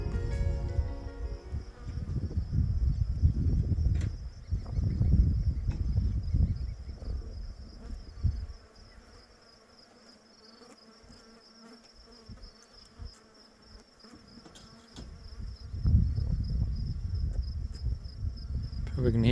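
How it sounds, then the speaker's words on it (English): Flies and other insects buzz steadily around a desert camp among desert oaks just after sundown, a continuous drone with a thin high whine, louder at the start and end and fading quieter through the middle. "We can hear the flies buzzing around still."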